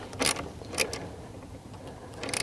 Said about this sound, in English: Now take your socket and tighten the positive